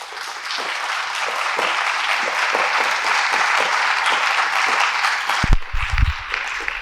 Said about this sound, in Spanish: Les pido un fuerte aplauso para Gerly, por favor.